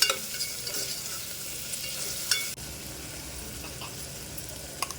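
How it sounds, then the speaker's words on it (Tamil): Chopped tomatoes sautéing in a pan for mutton curry, a steady hissing sizzle with scraping stirs throughout and a brief clatter midway, close and continuous. "2 தக்காளி அரிஞ்சு சேர்த்துக்கோங்க. சேர்த்து நல்லா வதக்கிக்கலாம்."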